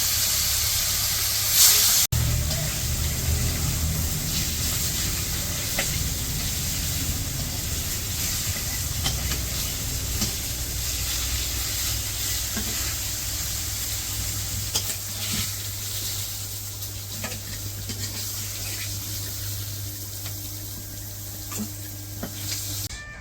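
Fish frying in hot oil in a wok in a village kitchen, a steady loud sizzle that runs unbroken throughout with occasional faint stirring clatter.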